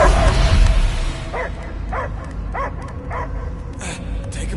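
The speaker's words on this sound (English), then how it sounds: "I hear only barking." A dog barks repeatedly in the video game Guardians of the Galaxy, several evenly spaced barks over low game ambience, with a voice speaking at the start.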